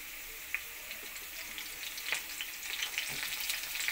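Potatoes and pumpkin fry in a pan for a curry, giving a steady close hiss of oil with a few brief crackles and pops scattered through and no talking.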